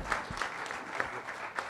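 Scattered, fairly faint claps sound at a film music release event, a handful of distinct hand strikes spaced irregularly over a quiet background.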